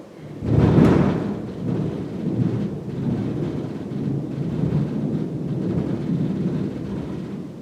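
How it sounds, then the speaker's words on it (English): Thunder during a storm: a loud low rumbling crack near the start, then a long rolling, steady rumble with rain-like noise underneath, no voices. "That's thunder."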